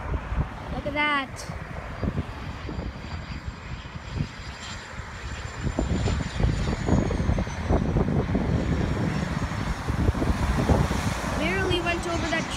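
A private jet comes in to land on a runway near an airport road, a steady engine roar building louder over wind noise. Voices talk over it now and then.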